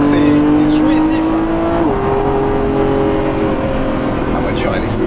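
Lamborghini Revuelto V12 hybrid in Corsa Performance mode, its engine held at a steady loud drone with a brief shift in pitch partway through, the note fairly constant while someone talks over it.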